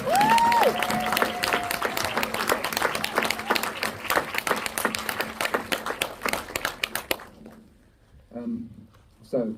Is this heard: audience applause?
yes